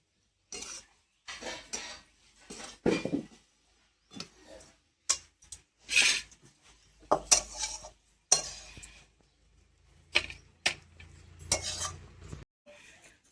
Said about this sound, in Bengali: এইবার আমি দিয়ে একটু নেড়ে চেড়ে নামিয়ে দেবো